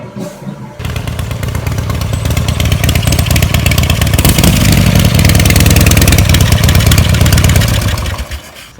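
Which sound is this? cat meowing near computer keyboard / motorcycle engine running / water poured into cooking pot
motorcycle engine running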